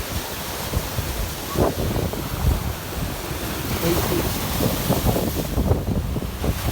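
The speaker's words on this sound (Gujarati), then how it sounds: "પવન પવનનો અવાજ આવશે તો હાથ આડો રાખ્યો બહુ પવન છે" Strong wind buffets the microphone over the steady roar of ocean waves, with surges of surf breaking nearby throughout.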